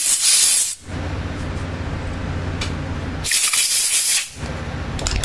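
Compressed air blasts through parts of a 09G automatic transmission valve body being cleaned, two loud sustained hissing bursts with a steady mechanical hum underneath.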